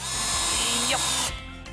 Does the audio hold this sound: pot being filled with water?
no